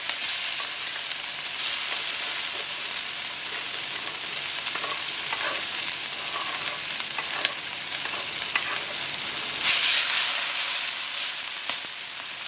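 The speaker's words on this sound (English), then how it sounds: "Now I'm going to scrape all this spice paste in." Indonesian spice paste for goat curry frying in a couple tablespoons of hot oil in a pan, a loud, continuous close sizzle and crackle with occasional stirring scrapes and a brief surge of hiss near the end.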